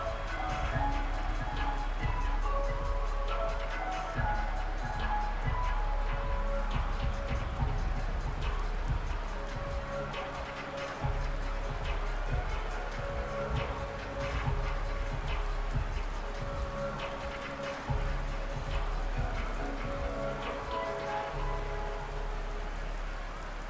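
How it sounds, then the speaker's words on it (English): Steady, dense rain hiss in the Madden 23 video game during a rainy Sunday Night Football game, Giants vs Bills, running continuously throughout with faint crowd-like murmur and no speech. "The rain set to continue as we are underway in the second half"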